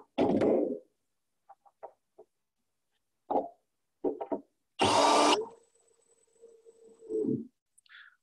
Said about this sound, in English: Just give me a second and put a couple more screws